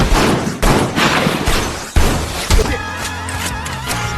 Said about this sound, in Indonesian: alhasil baku tembak pun tak terelakkan